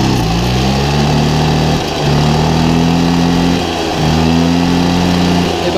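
A Motoconfort 50VL moped's small engine revs loudly up and down in three rising pulses, dropping back briefly between each, with a buzzy, rattling tone; its belt cover rubs.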